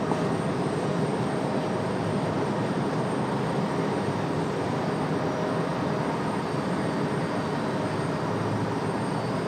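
An airplane on final approach to runway 5 left at Raleigh-Durham International, a loud, steady broadband engine roar that holds constant throughout with no voices.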